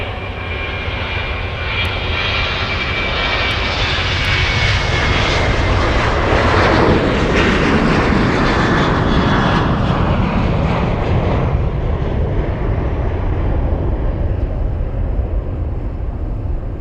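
SunExpress Boeing 737 jet airliner taking off at Munich airport, a steady loud engine roar that swells toward the middle and then slowly fades as it climbs away, with no talk.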